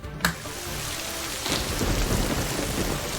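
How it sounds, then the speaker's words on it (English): Steady rain pours close by during a thunderstorm, with a sharp crack early on and a swell of heavier downpour and rumble midway through, no voices. "Teapot, what's that sound? Is that the storm?"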